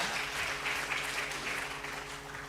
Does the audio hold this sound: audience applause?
yes